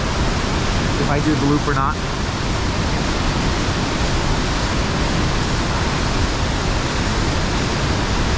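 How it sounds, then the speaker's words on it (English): Dingford Creek roars as a loud, steady wash of rushing water on a mountain trail, drowning out a man's brief speech near the start. "So this is Dingford Creek."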